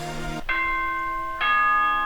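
Three tones of the announcement chime from the Danganronpa video game ring out in a descending-then-rising bell-like sequence. Each clear electronic note sustains before the next, with no voices over it.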